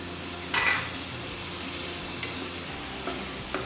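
Kerala-style chilli chicken tossed with soy sauce fries dry in a pan, giving a constant close sizzle with one loud scraping clatter early and a few lighter utensil knocks later.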